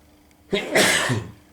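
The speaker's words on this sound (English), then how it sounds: "my usual morning sneeze" A single loud, close sneeze with a sharp intake and forceful burst, alone against near silence.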